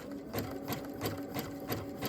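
A sewing machine runs a zig-zag satin stitch at stitch width about 5, its needle hammering in a steady, fast rhythm with a regular pulse roughly every third of a second, close and continuous, no voices.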